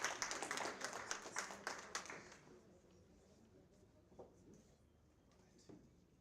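Applause at a teachers' union branch merit awards ceremony, a dense burst of clapping for the secretary that fills the first two and a half seconds and then fades to scattered claps in a quiet hall.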